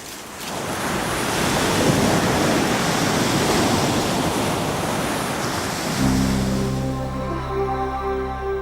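Ocean surf washes steadily onto the shore in a broad, roaring rush that holds for several seconds, and a low musical tone rises beneath it toward the end.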